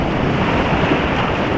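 Whitewater rapids in Browns Canyon during high water roar around a raft, a dense, continuous rushing wash with heavy wind buffeting on the microphone, loud and close throughout.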